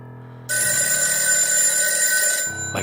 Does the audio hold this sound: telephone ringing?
yes